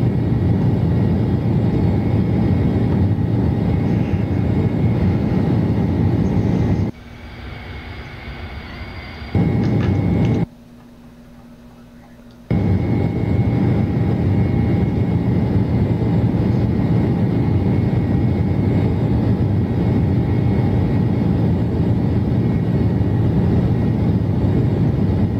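A simulated Airbus Beluga climbs out in X-Plane 12 with a steady, loud engine roar that drops away briefly twice before resuming at full strength.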